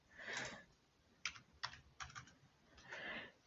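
Quiet typing on a computer keyboard while entering a category into a budget spreadsheet: a few scattered, crisp key clicks between soft, breathy background noise.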